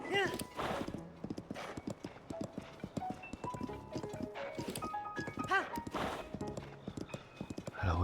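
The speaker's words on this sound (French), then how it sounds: "On galope." A horse gallops in Zelda: Tears of the Kingdom with rhythmic clip-clop hoofbeats and a neigh, under someone talking and tonal game music.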